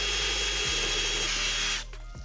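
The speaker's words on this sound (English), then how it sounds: "We have to drill a pilot hole so we can get the jigsaw blade in and start cutting." A power drill whines steadily at high speed, close up, boring a pilot hole for a jigsaw blade, then cuts off and winds down near the end.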